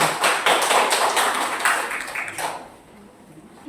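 A classroom of students clapping together, brisk overlapping claps close by and fairly loud, tapering off after about two and a half seconds.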